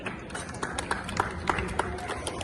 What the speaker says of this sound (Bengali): করতালির মাধ্যমে আব্দুল রহিম স্যারকে স্বাগত জানাই